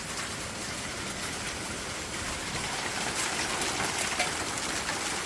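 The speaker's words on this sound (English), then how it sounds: "Oh my God, it's hailing, y'all." Hail falls outside as a dense, steady hiss of tiny impacts, fairly loud and continuous, with faint sharper clicks scattered through the wash of noise.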